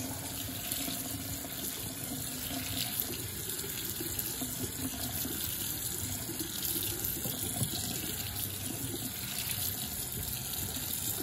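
Tap water runs steadily and close by, a continuous splashing wash as shredded zucchini is rinsed in a sink for a sweet and spicy relish, with no talking.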